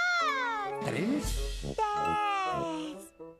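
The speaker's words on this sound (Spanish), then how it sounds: "¡Gato!" A cartoon cat meows in a Spanish-language Teletubbies children's episode, a few drawn-out cries mixed with childlike voices and music.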